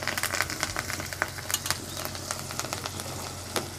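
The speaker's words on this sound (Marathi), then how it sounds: "हे चांगलं तेलामध्ये परतू द्यायचं।" Onion, tomato and coriander sautéing in oil for a matki misal, a steady crackling sizzle with irregular spatters and pops close up, no voice over it.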